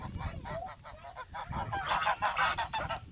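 A flock of farm ducks calling in the morning, a dense run of nasal honks and quacks overlapping in quick bursts, close and fairly loud, with no speech.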